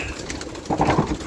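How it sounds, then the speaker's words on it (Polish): Pigeons cooing in a pigeon loft during feeding, low soft coos near by with a brief flutter of wings, a rougher burst of calls partway through. "Dobra, wchodzimy do gołębnika. Karmimy gołębie"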